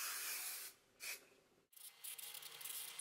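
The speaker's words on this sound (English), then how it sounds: "you're just going to take some more hairspray and just spritz it all over, just for an extra hold" Hairspray spritzed all over a head of hot rollers, a soft airy hiss in two bursts with a short pause between, close and fairly quiet.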